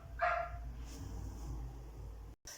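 A dog gives a short bark or yip near the start, followed by low background rumble and a brief dropout near the end.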